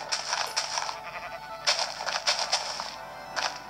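A sheep in the video game Minecraft bleats several times in short, fairly loud calls, separated by brief pauses, with no talk.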